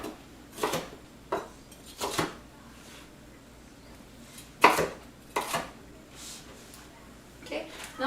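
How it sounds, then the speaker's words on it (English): Knife chopping vegetables into julienne strips for a loaded veggie pizza: a handful of separate sharp knife strikes on a cutting board with pauses between them, close and fairly quiet. "I'm also going to julienne these"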